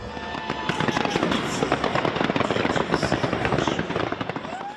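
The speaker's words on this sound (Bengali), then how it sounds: "চলে আতসবাজি আর কনফেটটি ছুড়ে উল্লাস" New Year fireworks over Times Square, New York, a dense barrage of crackling bursts and pops close together for several seconds amid a roaring crowd.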